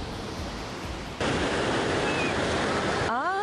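Ocean waves at the Santa Monica Pier beach form a steady, loud roar of surf with no break, and a brief tonal, voice-like sound appears at the very end.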